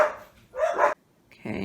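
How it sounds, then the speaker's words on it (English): Dogs barking indoors in short bursts, two or three sharp barks with a brief pause between, fairly close and moderately loud, with no one talking over them. "Sorry for my dogs."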